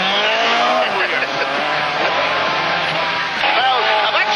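A Ford Escort Mk1 RS1600 rally car sliding under the handbrake, with engine roar and a long, wavering tire squeal that holds steady and loud, then sharpens into a final squeal near the end.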